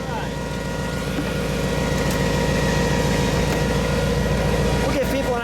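Engine of a 2009 Brimstone Quadracycle running steadily, a loud, close, continuous drone with a firm low rhythmic pulse that holds level throughout, while speech is faintly mixed in.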